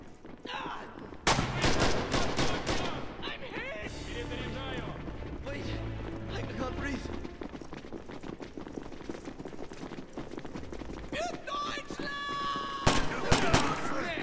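Rapid bursts of gunfire from the World War II shooter Red Orchestra 2, including C96 pistol shots, crackle in dense volleys with sharp loud cracks near the start and end, while a voice talks over the din of the firefight.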